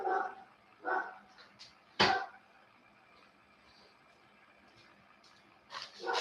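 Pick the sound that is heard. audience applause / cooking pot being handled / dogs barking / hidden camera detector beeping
dogs barking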